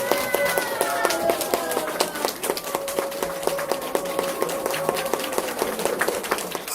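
Audience clapping to welcome film director Kwon Soon-do at a special lecture, sustained applause from a crowd over a low sustained tone, continuous from start to finish.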